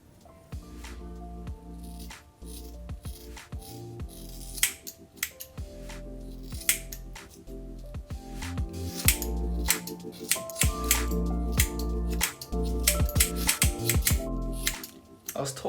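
Scissors snipping through someone's own hair at home, a rapid run of sharp close snips and crunches, some with squishy textures, continuing steadily throughout.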